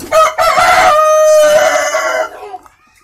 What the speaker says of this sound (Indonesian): Ini jantan AKY PS nya